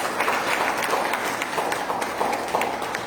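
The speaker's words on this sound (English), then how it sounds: "So please give yourself a round of applause." A temple congregation at a Krishna Mandir Sunday morning service breaks into steady, dense applause, many hands clapping together at close range for the whole stretch with no pause.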